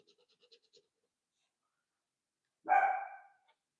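A single sharp bark from Nim, a female dog, rings out clearly and fairly close after a stretch of near silence broken only by faint, distant voices.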